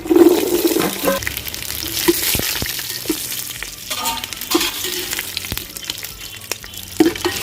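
Chopped shallots and dried chillies fry in a hot pan with a steady loud sizzle and crackle, punctuated by occasional stirring scrapes and clicks.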